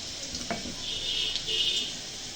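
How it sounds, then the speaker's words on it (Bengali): Onions frying in a pan for a fish curry, giving a steady close sizzle with a brief clatter of a utensil early on. "পেঁয়াজটা ভাজি ভাজি হয়ে গেছে"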